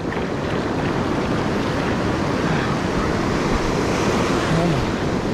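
Gulf of Mexico surf off Alabama rushes and roars continuously, a loud broad wash of breaking waves with wind noise over the microphone.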